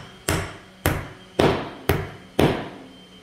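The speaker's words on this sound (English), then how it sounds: "so I can really hammer it down, and I'm going to hammer straight down" A hammer drives a nail into a wooden pencil box from a craft kit with five sharp, evenly spaced strikes, each one close and ringing briefly before the next.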